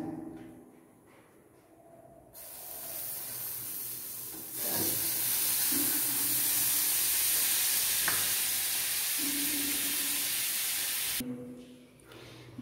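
Butter sizzles in a hot frying pan, a steady bright hiss that swells in after a quiet start, holds loud for several seconds, then cuts off, with faint clinks of handling.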